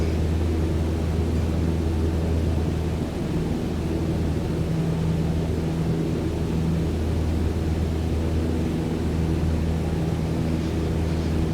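Aircraft on landing approach in Microsoft Flight Simulator 2020, a steady continuous engine drone with broad airflow noise throughout, even and unbroken with no talk.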